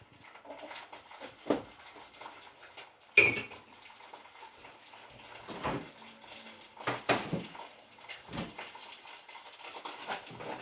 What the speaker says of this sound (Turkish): Kokusu çıkana kadar karıştıracağım.